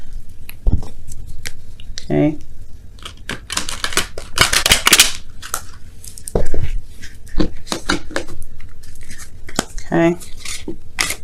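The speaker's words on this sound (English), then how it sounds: "I want to shuffle it a little bit differently this time." Tarot cards are shuffled close by with crisp rapid riffles and taps, while a person talks briefly in between.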